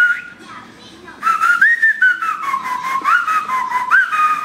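A person whistles a wavering, sliding tune, starting softly and then growing louder and clearer, close by.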